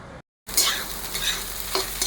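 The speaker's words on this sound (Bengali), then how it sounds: "আমি এখানে ডিমটাকে অল্প তেলে ঝুড়ো ভাজা করে নিলাম" Five beaten eggs with salt scramble in a little oil in a pan, a brief cut to silence, then a steady close sizzle with light stirring scrapes.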